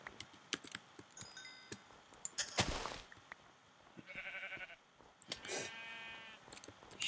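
Minecraft sheep bleat in a couple of wavering, nasal calls, separated by scattered sharp clicks and a brief burst of noise, all fairly close and with no talking.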